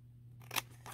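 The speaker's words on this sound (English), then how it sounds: "you're going to cut all of these score marks" Scissors snip through score marks on a paper craft food cart piece, two or three quick, close, quiet cuts in a hushed room.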